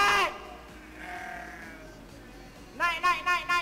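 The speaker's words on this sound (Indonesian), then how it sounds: "segerombolan kambing datang dan berlarian ke arah suaranya" A herd of goats runs toward a person calling them, and several close bleats arrive in a quick burst after a quieter stretch of faint bleating, with a voice heard briefly at the start.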